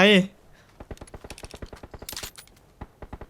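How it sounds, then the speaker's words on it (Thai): Rapid gunfire from PUBG New State, a mobile battle royale shooter, rattles in quick successive bursts of sharp shots at moderate volume. A short voice is heard at the very start. "เออยิงขู่ไป"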